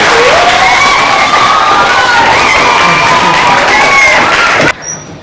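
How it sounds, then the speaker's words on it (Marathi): Fifth-grade students in a classroom burst into loud, continuous clapping mixed with excited shouts and cheers, cutting off abruptly near the end. "टाळी वाजवा सर्वांनी ह्याच्यासाठी"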